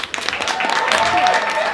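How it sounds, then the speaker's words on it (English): Audience applause at a live birthday-special show, a short burst of clapping rising under a presenter's voice, fairly near and steady. "round of applause."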